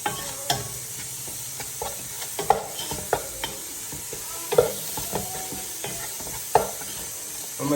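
Masala being stirred in a pan for a duck curry, a low sizzle under intermittent scraping and knocking strokes of a spoon at irregular intervals, close and fairly quiet with no speech.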